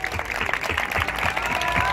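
Concert audience applauding musicians at a live show in Alcalá, a dense, steady wash of many hands clapping at close range throughout, with faint voices mixed in.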